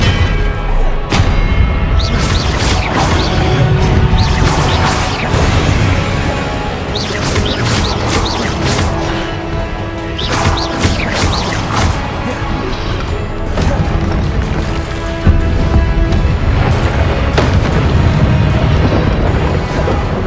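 Confringo blasting-spell explosions and spell combat in the Hogwarts Legacy video game, loud repeated booms and crashing impacts in dense bursts over a constant roar of battle noise.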